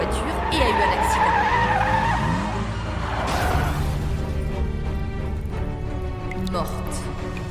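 Car race skid with tires screeching across the opening seconds, then a rough crash-like burst of noise midway, all under a steady bed of dramatic sound and overlapping voices.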